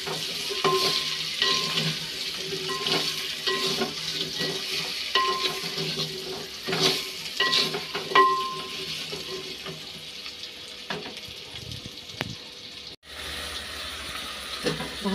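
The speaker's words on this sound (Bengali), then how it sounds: "একটু হলুদ দিয়ে দিলাম, একটু নুন দিয়ে দিচ্ছি, দিয়ে একটু ভালো করে ভেজে নেব" Pumpkin pieces fry in a pan with turmeric and salt while a spatula stirs and scrapes in repeated strokes over a soft, continuous sizzle. The scraping grows busier midway, then the sound shifts abruptly near the end.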